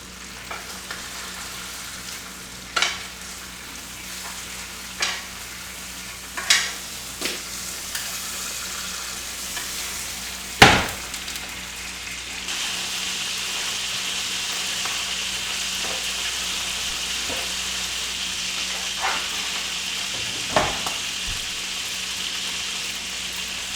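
Duck breast sears skin-side in a hot pan with a continuous sizzle. Scattered sharp pops and clicks come through early, then the frying swells into a louder, denser hiss for the second half.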